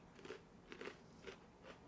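Faint, close crunches from biting and chewing an Oreo cookie, four crisp bursts spaced about half a second apart, with no talking.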